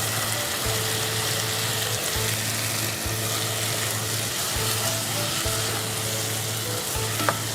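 Prawns sizzle steadily in a hot pan for prawn pulao, a dense continuous frying hiss with a low hum pulsing underneath throughout.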